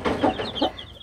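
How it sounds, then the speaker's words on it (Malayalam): Mother hen clucking near a brood of week-old chicks, a few close, throaty clucks followed by thin high peeping from the chicks. "ഒരമ്മ കോഴിയുണ്ട്, കുറെ കുഞ്ഞുങ്ങളും ഉണ്ട്"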